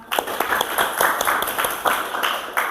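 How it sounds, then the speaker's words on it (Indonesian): A class of students applauding together at the end of a classical guidance session, with clustered claps in a brisk rhythm, close and fairly loud, sustained throughout. "Tepuk tangan untuk kita semua"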